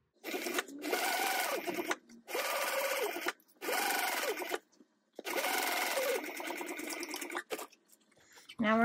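Sewing machine stitching a 3/8 inch seam on a fabric tote bag, running in four long bursts with short pauses between, close and steady, with no talk over it.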